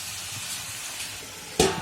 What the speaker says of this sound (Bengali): এবার এই দুটো ভালোভাবে মিক্স করে নিতে হবে মশলার মধ্যে কষিয়ে কষিয়ে।